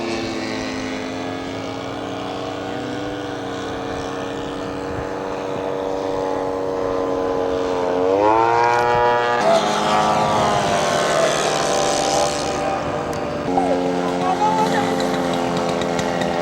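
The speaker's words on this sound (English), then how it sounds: "B-25 is off and running." A scale model B-25 bomber's engines run with a steady buzzing drone that rises and shifts in pitch as the throttle changes, loud and fairly close, with a commentator talking over it.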